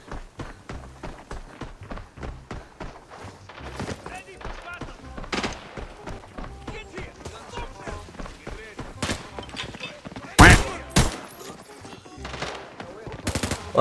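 Gunfire in the video game Arena Breakout, with sharp shots and quick bursts scattered through the stretch, some louder and nearer than others, as a player talks in Indonesian over the action.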